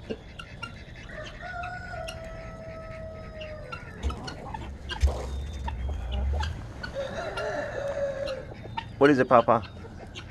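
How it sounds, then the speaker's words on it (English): A flock of ducks quacks and calls outdoors in a busy, uneven chorus, with a burst of louder, rapid calls near the end, while people talk nearby. "These ducks are crazy"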